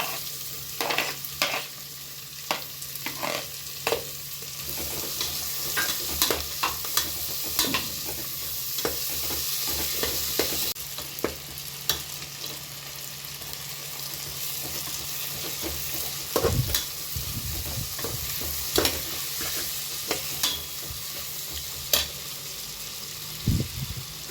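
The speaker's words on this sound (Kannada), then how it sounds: "ಈಗ ನೋಡಿ, ಈರುಳ್ಳಿ ಎಲ್ಲ ಫ್ರೈ ಆಗಿದೆ ನೀಟಾಗೆ." Chopped onions with a little turmeric fry in a pan for egg biryani, a steady close sizzle under repeated scraping stirs of a spoon against the pan, continuing without any voices.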